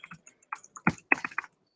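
Short bursts of typing on a computer keyboard while text is entered into a web form field, with a handful of close, irregular key clicks spaced out rather than a steady run.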